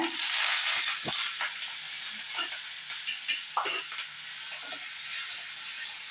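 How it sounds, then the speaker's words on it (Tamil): Curry leaves and asafoetida sizzle in hot oil for a pasi parupu sambar tempering, starting with a loud spitting hiss that settles into a steadier fry, with a few sharp crackles and stirring knocks close by. "கருவேப்பிலை போட்டுக்கோங்க."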